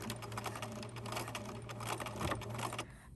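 A sewing machine stitches a fabric owl, running forward a stitch or two and then back stitching, a close, fairly quiet rapid mechanical chatter with a steady motor hum throughout.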